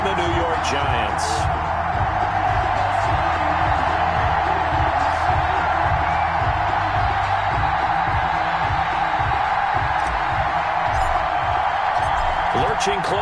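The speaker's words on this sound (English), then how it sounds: "This crowd is ready as their guys get set to match up" A stadium crowd in an EA Sports NFL video game, Philadelphia Eagles versus New York Giants, roars in a steady wash of cheering throughout, with talk running over it.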